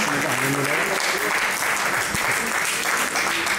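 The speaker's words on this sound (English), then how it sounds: "Please give a big round of applause to them." An audience at a reunion gathering of a 1979 engineering batch at AMU Aligarh gives the organisers a round of applause, a dense, sustained clapping that fills the room with a few voices mixed in.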